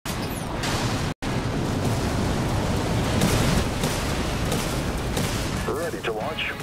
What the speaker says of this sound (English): Stasis nuke locked on. Aye, Captain. Activating. Firing stasis.